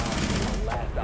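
A single burst of video game gunfire, loud and dense, packed into about a second with continuous noise and no quiet gaps.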